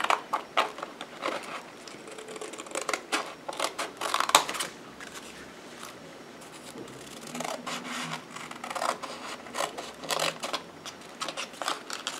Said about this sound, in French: Je coupe de manière à ce qu'il y ait le moins de papier possible.